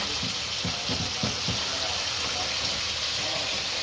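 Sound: peppers frying in a pan

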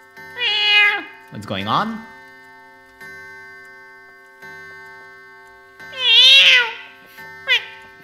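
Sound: person imitating cat meows

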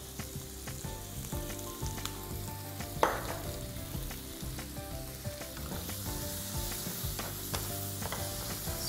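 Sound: tomatoes frying with turmeric and onion in a pan

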